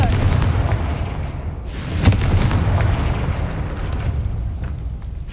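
Confringo spell blast in Hogwarts Legacy, a single booming explosion with a sharp crack near the middle, set against a continuous low rumbling game ambience.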